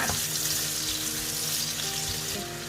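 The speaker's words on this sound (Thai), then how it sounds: "เอามาเจียวให้เขามีกลิ่นหอมจักหน่อยนะคะ" Shallots or onions fry in hot oil, giving a continuous, fairly close sizzle and crackle that stays even throughout, with no talking.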